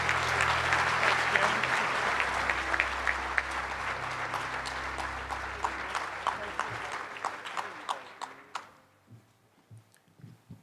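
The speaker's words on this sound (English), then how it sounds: "please give a warm aloha and round of applause for Dr." Audience at a Hawaiian prayer breakfast applauds to welcome a speaker, dense sustained clapping that thins out into a few scattered claps and fades to near silence.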